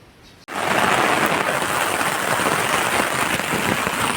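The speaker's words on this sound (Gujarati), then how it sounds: "ફાઇનલી મિત્રો વરસાદ આવી ગયો" Heavy downpour of rain begins abruptly after a brief quiet moment, then continues as a dense, steady, loud roar.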